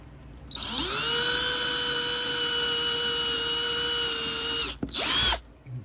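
A power drill bores a hole while a Tortoise switch machine is installed on a model railroad, whining at a high steady pitch for about four seconds before stopping and giving a short second burst.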